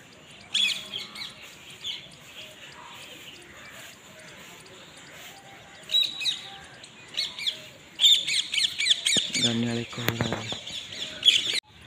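A pet parrot squawks and chirps at close range in sharp, intermittent bursts, louder toward the end, with people talking nearby.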